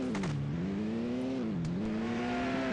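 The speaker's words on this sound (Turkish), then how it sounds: "Hadi şimdi bir deneme sürüşüne çıkalım. Yeni ikinci el BMW M4'ümüzü." A BMW M4 in the Car Parking Multiplayer game drives with a continuous synthetic engine drone whose pitch dips and rises as it shifts and accelerates, loud and steady with no talk.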